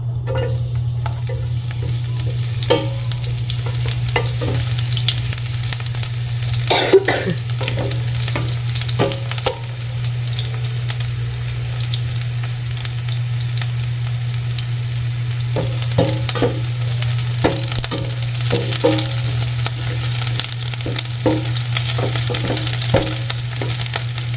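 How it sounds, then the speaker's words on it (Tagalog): Sliced onion frying in hot cooking oil, a steady close sizzle running throughout with occasional light stirring clicks and scrapes and a constant low hum beneath. "at atin na pong ilagay itong sibuyas. At mainit-init na po yung ating mantika."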